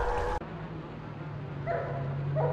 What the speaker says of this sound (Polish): Psy!